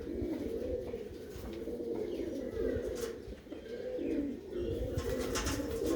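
Pigeons cooing in a loft at Gola Nizampur, soft repeated throaty coos layered over one another, with occasional chirps and a brief flutter of wings, moderately close and continuous.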